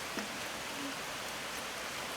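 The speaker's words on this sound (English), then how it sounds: "That's a morning shower for Danielle" Light morning rain shower falling outdoors, a soft steady hiss of drops with no distinct individual hits, faint and continuous.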